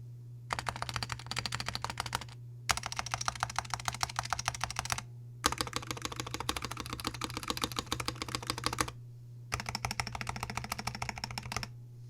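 Steady clacky typing on an Epomaker TH66 65% mechanical keyboard with stock-lubed stabilizers, in several bursts separated by short pauses, close and crisp, with a low hum underneath.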